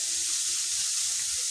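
Ingredients for spicy puli pitha fry in a pan with a continuous close, even hiss of sizzling oil and no talking.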